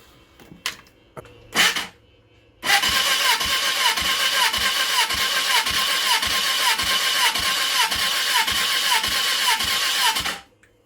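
A few short clicks and bursts, then a Suzuki Bandit motorcycle engine cranks on its starter during a compression test with a steady rapid chugging rhythm for several seconds before stopping abruptly; loud and close, no talk.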